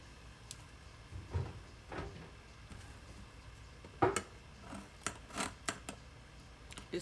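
Sharp scissors snipping tulle while making a wreath, a scattered run of soft clicks and snips at uneven intervals, close and fairly quiet.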